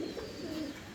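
A female fancy exhibition-quality pigeon gives a single soft, low rolling coo, close and fairly quiet against faint background hiss.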